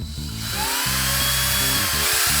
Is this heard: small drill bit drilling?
yes